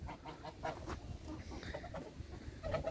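Farm geese honking and cackling in a short, busy, overlapping chorus at moderate distance, fairly faint, with no talking.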